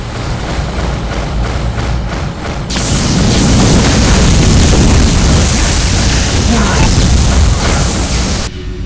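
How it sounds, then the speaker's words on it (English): A Lucifer cannon fires in the alien-versus-human shooter Tremulous, breaking from a low mechanical hum into a loud sustained blast of booming noise that roars for several seconds before cutting off abruptly. "The Lucifer cannon."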